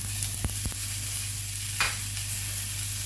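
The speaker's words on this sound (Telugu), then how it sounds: "మనం ఇందులోనే ఉల్లిపాయలు, తెల్లవాయలు వేసుకున్నామండి. ఇవి కూడా బాగా దూరగా వేయించుకోవాలండి." Onions and garlic frying in a little oil in a pan give a steady, close sizzle with a few sharp clicks from stirring.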